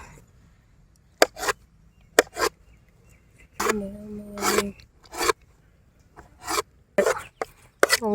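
Knife slicing tender ice apple (nungu, palm fruit) into small pieces for a village-style payasam, heard as a series of quick, crisp cutting strokes in irregular bursts, close and fairly clear with no talking.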